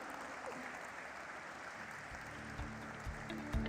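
An audience at a stock exchange listing ceremony for Gaja Alternative Asset Management Limited applauds steadily, a dense, even wash of clapping heard from a distance with a few louder claps near the end.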